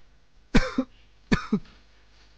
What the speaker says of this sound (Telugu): ఎందుకులా దగ్గుతున్నారు?